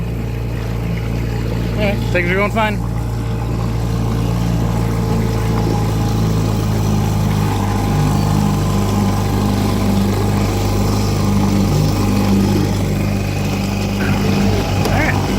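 A 1960 Johnson 5.5 HP outboard motor runs steadily on a small boat out on the water, a constant close drone that holds through the whole stretch while someone speaks briefly near the start.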